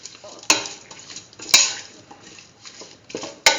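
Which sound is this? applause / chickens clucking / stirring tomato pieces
stirring tomato pieces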